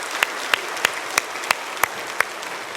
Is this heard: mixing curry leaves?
no